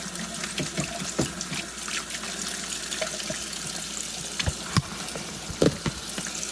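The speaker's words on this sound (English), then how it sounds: "Give it a rinse." Tap water runs steadily over AeroPress coffee maker parts being rinsed, a continuous splashing hiss with small knocks and clinks of plastic pieces, close and moderately loud, with no talking.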